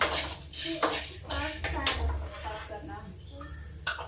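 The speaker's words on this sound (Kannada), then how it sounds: "ಹಾಕ್ತಾ ಇದ್ದೀನಲ್ಲ, ಪಾಪ್ಕಾರ್ನ್ ಹಾಕ್ತಿದ್ದೀನಿ." Popcorn kernels go into a pan of oil, giving close metallic clatter and rattling against the cookware while a person talks over it.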